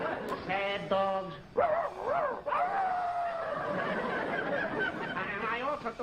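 A voice imitates a sad dog, producing a string of whimpering whines and yips that rise and fall in pitch, close and clear, with a brief laugh from listeners near the start.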